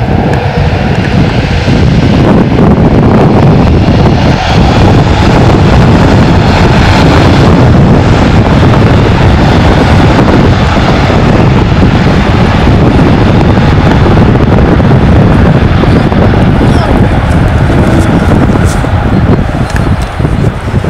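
An Emirates Airbus A380 takes off from the runway at Birmingham, a loud, sustained roar of jet engines with heavy wind buffeting the microphone throughout.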